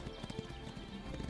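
Horse hooves clip-clop in a quick, uneven rhythm with hints of neighing, recorded for the video game Legend of Khiimori, faint and brief.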